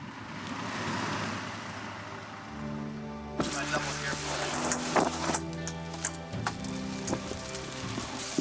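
Steady rain falls outside a Coast Guard maintenance hangar in Alaska, a continuous hiss of drops with a low rumble beneath and scattered sharper spatters.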